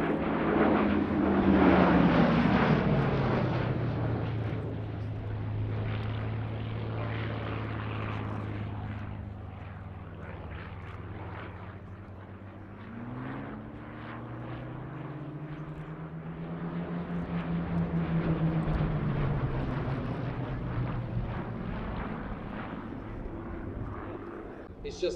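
A Hawker Hurricane single-engine fighter flying past at the Sywell 2024 airshow, its propeller engine a loud, steady drone that rises and falls in pitch as it passes, with the roar swelling again later.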